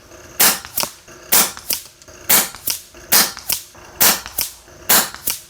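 An FX Wildcat air rifle fires JSB 18.13 or AEA 18.3 grain pellets at 100 yards. Six sharp, evenly spaced cracks ring out close and loud, each followed by a faint tick.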